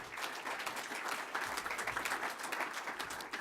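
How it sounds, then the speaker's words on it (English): An awards gala audience in the Elmhurst Chamber of Commerce applauds for Julie, a new board chairman, with steady dense clapping across the room at moderate level. "Give Julie a nice round of applause."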